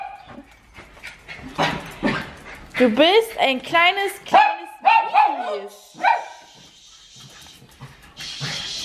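A dog yips, whimpers and barks in a quick run of high-pitched calls, close by, with people talking before and after the burst.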